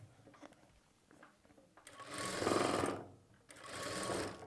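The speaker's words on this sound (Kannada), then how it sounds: "ಪೈಪಿಂಗ್ ಕ್ಲಾತ್ ಮಾತ್ರ ಕಂಪಲ್ಸರಿ ಟೈಟಾಗಿ ಎಳೆದು ಇಟ್ಕೊಂಡು ನಾವು ಸ್ಟಿಚ್ ಮಾಡಬೇಕು" A sewing machine stitches piping cloth held taut, in two loud, steady bursts of whirring stitching separated by a short pause, after quieter handling noises.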